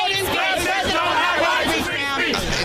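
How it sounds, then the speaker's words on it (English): Rally crowd chanting in unison with rhythmic shouted voices, loud and sustained, several people bellowing together throughout. "Now the crowd gets into it."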